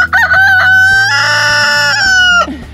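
A rooster crows loudly and close by in one long, strained call, with hens clucking beneath it.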